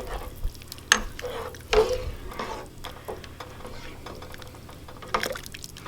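Pieces of black silkie chicken meat are stirred in a pot, with loud close clacks and scrapes of the utensil over a low bubbling sizzle and a few wet splashes.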